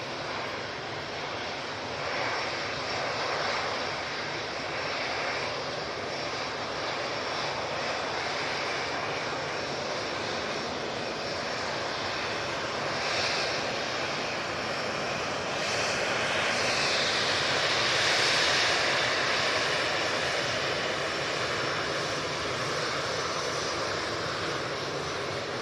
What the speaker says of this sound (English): TUI is coming over the road, I can assure you